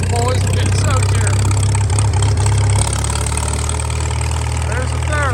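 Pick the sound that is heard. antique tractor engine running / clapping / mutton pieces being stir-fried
antique tractor engine running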